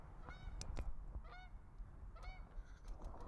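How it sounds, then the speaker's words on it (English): Geese honk several times outdoors in the Midwest, distinct nasal calls in short bursts spread across the clip, moderately distant over a low background rumble. "Did you hear the geese?"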